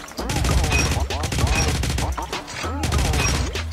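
Rapid automatic fire from a Type 25 rifle in a shooting video game, three tight bursts of loud, close shots with a brief pause between each.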